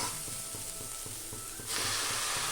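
Manathakkali greens go into a hot frying pan with oil and spices, a steady hiss that swells suddenly into a louder, brighter sizzle, with faint rhythmic ticking beneath.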